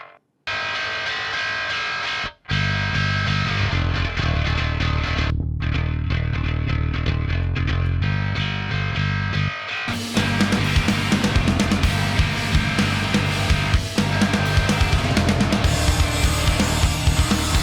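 A bass guitar is played through Steinberg amp simulator distortion, giving a dense, gritty tone in sustained phrases with brief gaps, then a brighter, harsher distortion setting.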